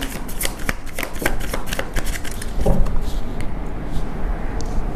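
Tarot cards being shuffled by hand, a steady run of crisp riffling flicks close up, with no talk.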